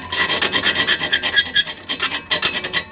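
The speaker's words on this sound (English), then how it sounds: "we're just gonna use like a filer here and just file this down a little bit." Rapid rhythmic rasping of a hand file scraping back and forth across a metal suspension bracket for an 8th-gen Honda Civic, close up, each stroke a short gritty burst.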